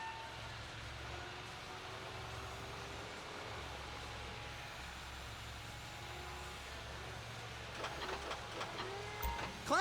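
Container handler heavy machinery working at a port in GTA 5, a steady low engine drone with mechanical whine running throughout, then sharper clanks and rattles near the end, with no talk.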